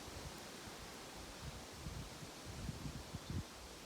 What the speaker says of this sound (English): Well, now we have a wind.